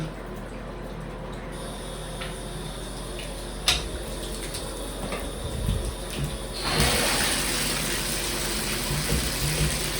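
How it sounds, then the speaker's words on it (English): A running shower with a leaking head hisses steadily, a broadband spray that swells louder partway through, with a short knock early on. "Shower leaks. Shower leaks. We'll replace the shower head."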